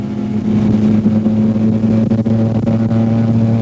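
Racing cars, among them a Golf GTI and a BMW, run at the 1990 Phoenix Park Motor Races, a loud, steady engine drone with a strong low hum heard from on board.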